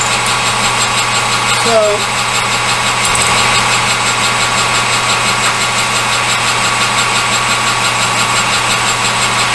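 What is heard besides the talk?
lathe running while turning a bushing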